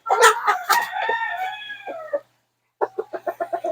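Chickens in a chicken house, close and loud, give one long crow with clucks over it, then a short pause, then a quick series of sharp, evenly spaced clucks.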